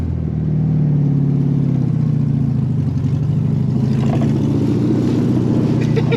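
A 1973 VW Super Beetle, back on the road after 17 years, runs with a steady, loud, close engine drone and a continuous rough throb, with no talking over it.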